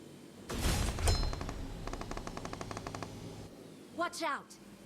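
Rapid gunfire crackles in a quick burst of evenly spaced shots at moderate distance, preceded by a heavy blast and followed by a few trailing rounds, with a voice speaking near the end.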